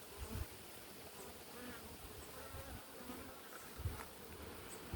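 Honey bees buzzing around a honey super on a hive in summer, a steady close insect drone with a few louder passes near the microphone.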